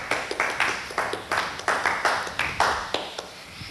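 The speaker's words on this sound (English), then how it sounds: "don't be thrown by that uproarious applause I received" A small studio crew claps for a late-night talk show host: a thin, sparse round of separate hand claps, evenly spaced and close, with no voices.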